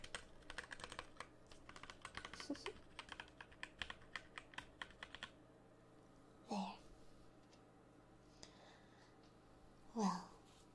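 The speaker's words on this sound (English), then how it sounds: "That's the sound of a clean keyboard." Keys on a freshly cleaned computer keyboard are tapped in a quick, close, even run of clicks, then it falls quiet apart from two short, soft murmured voice sounds.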